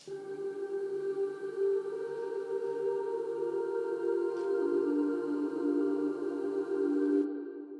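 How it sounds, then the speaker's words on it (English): A soft atmospheric synth pad with a grainy, boxy texture, made for a lofi track, holds a sustained chord for about seven seconds at steady moderate level and then cuts off abruptly. "the next thing we have here is what I'm calling a box grain pad, and by itself it sounds like this"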